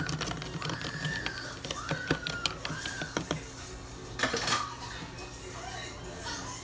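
A spoon stirs spiced clove and ginger tea in a cup, making a series of light clinks and taps against the cup. A voice talks quietly underneath.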